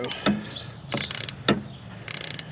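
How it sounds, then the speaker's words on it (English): A ratchet wrench with a 7mm socket clicks in short bursts while loosening a bolt on a 2022 VW GTI MK8 intake, sharp metallic ticks and pawl rattles close by, separated by brief pauses. "I recommend putting the 7mm socket on the bolt, then adding the wrench, and then it's coming off pretty easy now."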